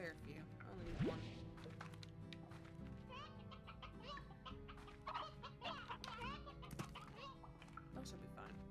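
Hens clucking in the video game Slime Rancher, a busy cluster of short bird calls running throughout under a constant bed of game music and a talking voice.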